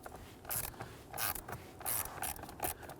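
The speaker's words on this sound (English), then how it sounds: "Super simple, just using my 1/4-inch ratchet on this." A 1/4-inch ratchet loosens the blower motor screws of the HVAC assembly in a Nissan Frontier, with quiet repeated bursts of fine clicking at close range.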